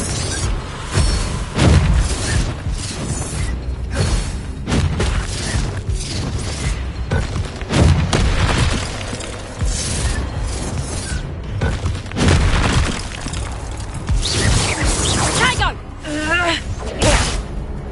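Spell explosions from Hogwarts Legacy keep booming and crashing through dense combat noise. Someone repeatedly shouts the incantations over the blasts.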